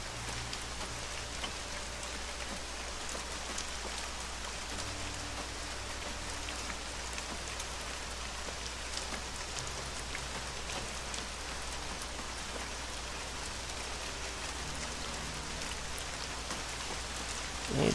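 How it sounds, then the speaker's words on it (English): Steady rain falling in the video game Worlds Adrift, an even wash of drops on surfaces that lasts throughout, with no voices. "It'd be nice if the rain let up."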